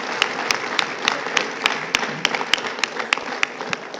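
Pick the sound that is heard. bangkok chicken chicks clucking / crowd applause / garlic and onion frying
crowd applause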